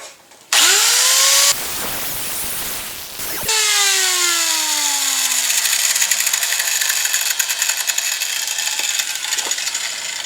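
A power tool starts up on a 4x4 transfer case shifter shaft, runs briefly and cuts into the metal, then winds down with a falling whine before starting again and cutting steadily, loud and close.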